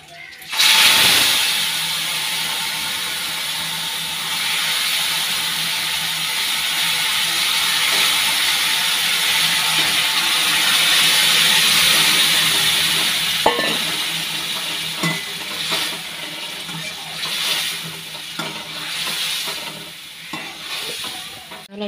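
Dal with taro hits a hot pan with a loud burst of sizzle and steam that settles into a long, steady hiss, with occasional stirring and pot clatter and a faint voice underneath.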